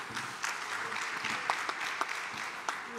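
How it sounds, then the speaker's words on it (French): A conference audience at a regional round-table event claps in a soft, continuous patter of applause, heard faintly at a distance. "Merci pour les applaudissements."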